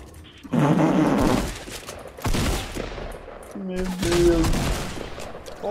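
Rapid bursts of automatic gunfire from the Fortnite Battle Royale video game ring out in several loud volleys, with players' voices talking over parts of the shooting.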